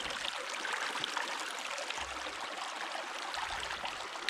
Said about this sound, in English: Beautiful creek drainage through here.